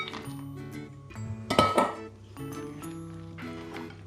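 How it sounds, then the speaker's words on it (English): Chocolate chunks sprinkled into brownie batter in a bowl, heard as a run of small close clinks and taps against the bowl, with a busier, louder cluster midway before settling. "last step, we're gonna sprinkle our chunks in"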